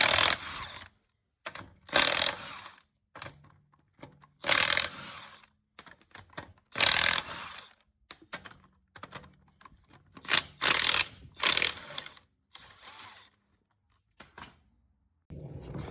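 Rear wheel nuts on a 2000s Mercedes come off with a 17 mm socket, likely driven by a power tool; bursts of loud buzzing rattle alternate with silences, roughly a dozen separate runs, with no talking.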